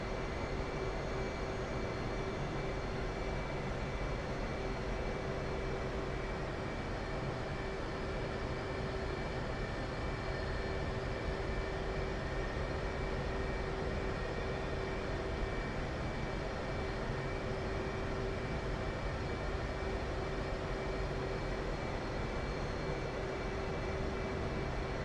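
F/A-18C Hornet jet taxiing in the DCS flight simulator: a steady, unbroken engine drone with a constant whine running evenly at one loudness throughout, with no voices.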